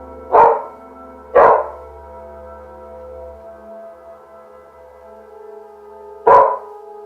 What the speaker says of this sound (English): the dog starts barking wildly while backing out of the bathroom and looking all around